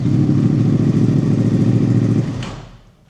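A Yamaha R1 sport motorcycle engine, just fitted with a new starter motor, runs loud and close with a deep rumble, then fades away over the last second.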